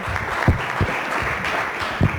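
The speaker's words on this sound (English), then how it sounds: "Let's give her a big round of applause and a warm welcome." An audience at an education presentation gives a short burst of applause, a hissy spread of clapping with a few heavier thumps standing out, moderately loud and brief.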